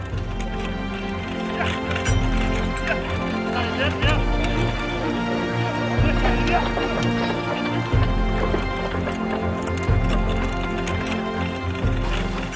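Horses tow a heavily loaded ship train along a river, their hooves clopping in a slow, regular rhythm while someone speaks over them.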